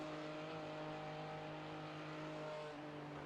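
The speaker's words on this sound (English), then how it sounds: "The blimp is too loud." Engine drone from a blimp in the iRacing sim during a 24 Hours of Nurburgring race, heard from the pace car; a steady, loud, continuous hum with strong low tonal bands and no talk.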